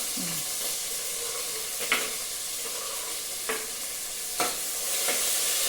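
Onions frying in a pan for a Tamil rice-and-lentil dish give a steady low sizzle with a few soft stirring clinks, close and even throughout, no voices.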